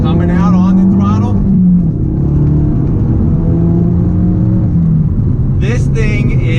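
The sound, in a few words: 450HP 2017 Ford Focus RS accelerating out of a bend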